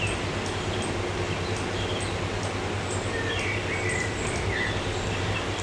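Steady synthetic cricket chorus from a relaxation background noise generator, a continuous even wash of chirping with faint bird-like calls over a constant low hum, no talking.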